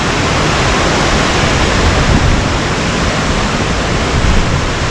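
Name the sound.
creek flowing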